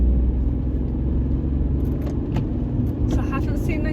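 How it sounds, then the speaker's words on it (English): A manual car on a Tolworth driving test route pulls away in second gear, a steady low engine drone and road rumble with a few light rattles, heard under someone talking from inside the cabin. "And now I'm back on that gas pedal and second gear."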